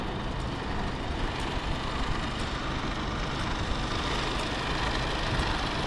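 A Mercedes Actros truck engine idles with a steady, dense low rumble, heard close and continuous throughout with no talking.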